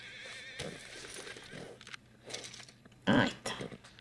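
A horse in Red Dead Redemption 2 gives a short whinny and snort amid soft hoof and tack sounds, fairly quiet with a louder burst near the end.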